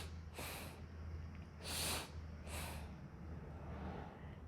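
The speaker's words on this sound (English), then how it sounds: "draw in a sharp breath" Sharp nasal breaths drawn in during a meditation, three airy rushing bursts, the middle one longest and strongest, close and soft over a faint low hum.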